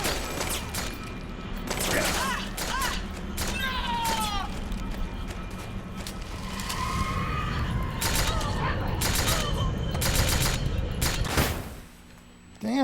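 Rapid bursts of gunfire from a Metal Gear Solid 4 firefight crack repeatedly at medium distance, mixed with mechanical clatter and cat-like shrieks, while a voice talks over the action.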